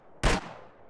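A single sharp gunshot rings out in a shooting video game, a loud, close burst that decays quickly into a short tail.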